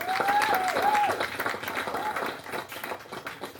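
Wedding guests applaud at a wedding in Puglia, a dense burst of clapping that fades gradually, with a voice briefly heard over the start.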